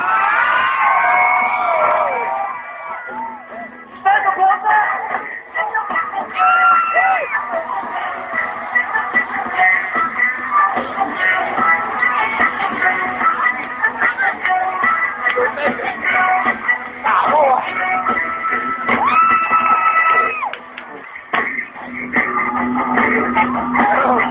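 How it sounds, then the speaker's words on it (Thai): A crowd claps and cheers for a friend, a sustained, moderately loud wash of whoops and shouts with tonal voices or music running through it the whole time. "ขอเสียงปรบมือให้เพื่อนผมคนหนึ่ง"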